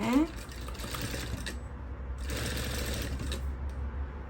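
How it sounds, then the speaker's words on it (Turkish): Sewing machine stitching through a corset's boning channel in two steady whirring runs of rapid needle strokes with a brief pause between, close by, with a voice speaking softly. "Hemen balenimi hissediyorum hissettim arkadaşlar. Ve dikiyorum."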